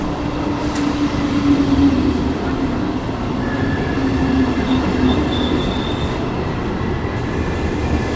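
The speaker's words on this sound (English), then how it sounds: "Here comes the train." A train rumbles in with a steady low roar, faint rail squeals rising partway through, heard from a station platform in Padua, Italy, without talk.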